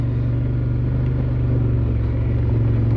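A Polaris Sportsman 850 ATV on a test ride, its engine giving a steady low rumble and drone throughout, close and even with no talking.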